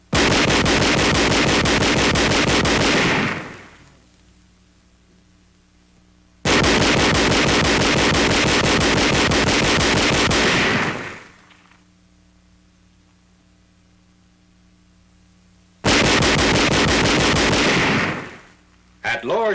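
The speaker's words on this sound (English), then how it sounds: "Employing the captured 20mm gun on 2nd January, enemy targets a half-mile away are brought under indirect fire." A captured 20mm gun fires in rapid, sustained bursts at enemy targets half a mile away, three loud, dense volleys of about three to four seconds each, split by short quiet gaps with a low hum beneath.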